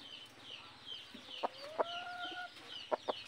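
A captured pale, brownish talisayin fowl suspected of being a labuyo junglefowl gives a few short, sharp clucks close by, spaced irregularly over a quiet background, with a faint drawn-out call in between.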